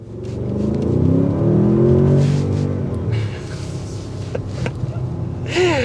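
A 2024 Audi S8 accelerates hard from a stop, its engine note rising and swelling loudly in pitch over the first few seconds before easing off under road rumble, with a brief gear-shift-like pitch sweep near the end.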